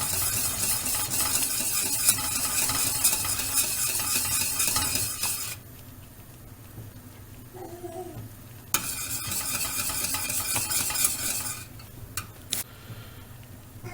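Spoon stirring thick magnolia milk pudding as it boils in a pot, with steady scraping and bubbling for about five seconds, a quieter pause, then more stirring, close and continuous.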